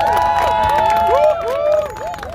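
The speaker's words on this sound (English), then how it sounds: "Let's give Liza a strong round of applause" An outdoor crowd at a street co-naming ceremony for Big Pun Plaza cheers and claps, with loud whoops and shouted voices rising and falling over scattered applause.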